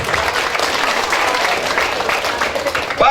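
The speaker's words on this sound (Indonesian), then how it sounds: "tepuk tangan dulu, tepuk tangan dulu." A crowd at an outdoor campaign rally for candidates for governor and vice governor of NTT in Kupang breaks into loud, sustained applause, dense clapping filling the space from start to end with a few scattered cheers.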